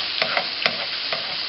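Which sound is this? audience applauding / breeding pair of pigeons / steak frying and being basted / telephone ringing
steak frying and being basted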